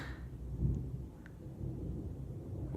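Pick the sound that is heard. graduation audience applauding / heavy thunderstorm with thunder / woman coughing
heavy thunderstorm with thunder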